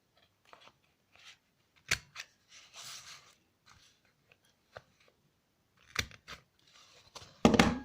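Paper corners being rounded with a corner punch or scissors for a handmade spring-themed pocket mini album: a handful of sharp, close snipping clicks spaced irregularly through quiet, with small rustles of paper between them.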